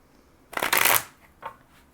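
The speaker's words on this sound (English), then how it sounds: "So I'm going to actually give them one more shuffle." A quick riffle of tarot cards shuffling close by, a dense papery flutter lasting half a second, then a softer brief shuffle after.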